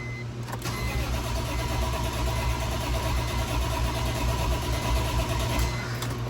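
BMW E46 M3 wagon engine running steadily after starting, a constant mid-pitched idle hum throughout, close and fairly loud with no voices.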